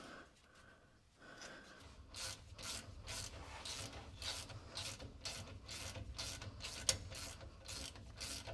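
Ratchet tightening nuts on a rear axle during a street-legal NASCAR-style build, a steady run of rapid clicking strokes repeated over several seconds, fairly close and alone with no talk.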